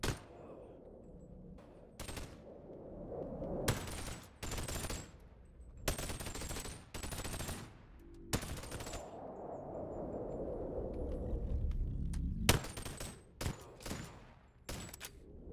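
Explosive bullets go off in the Boneworks virtual reality game, a string of sharp, loud blasts in irregular clusters, some in quick pairs, with metallic rattles and physics clatter between them.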